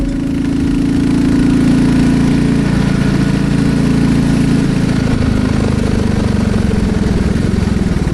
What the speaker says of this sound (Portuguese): E eu vou deixar vocês agora apenas com o som do motor da Classic 350.